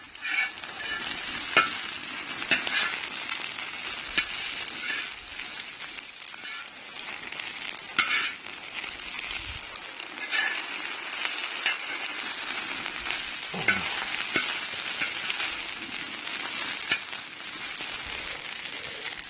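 Eggs and a breakfast mixture sizzle loudly and steadily on an outdoor cooking disc, with repeated scraping and tapping of a utensil stirring throughout at close range.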